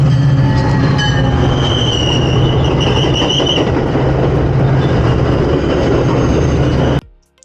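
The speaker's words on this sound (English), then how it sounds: "Once the train arrived" A Metra commuter train pulls into a station, a loud steady rumble of railcars with high metallic wheel squeals drifting above it, continuing for several seconds before cutting off abruptly.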